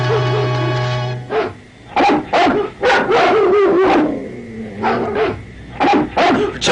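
Several dogs bark and yip in short loud bursts, set loose on someone in a Jungle Book cartoon, with brief gaps between barks and no talking.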